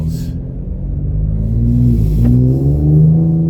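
A 2025 Ford Explorer ST fitted with an AWE exhaust accelerates hard from the cabin, its deep engine rumble steady and loud, with the drone rising slightly in pitch as it pulls, no talk over it.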